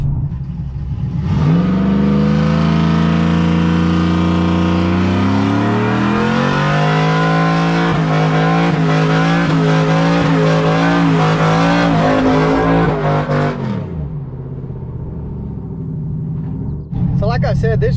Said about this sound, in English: we're gonna go ahead and do a little burnout clip too